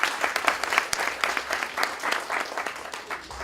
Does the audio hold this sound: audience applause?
yes